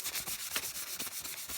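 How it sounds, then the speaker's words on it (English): A paper towel rubs sanding residue off a model rocket body in quick back-and-forth strokes, a soft rhythmic papery swish repeating close up with no voices. "a paper towel to wipe off the residue from the sanding"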